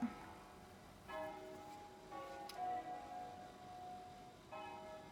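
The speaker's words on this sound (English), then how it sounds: "I don't know if you can hear it, but they're going pretty loud." Faint bells ringing in the distance, a few resonant strikes spaced a second or so apart, each tone lingering and decaying against quiet background noise.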